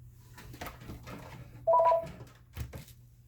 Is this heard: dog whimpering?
no